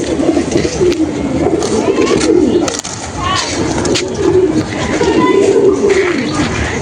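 Madras pigeons coo repeatedly in a loft, low rolling calls overlapping one another at close range against steady background noise, with a voice occasionally heard.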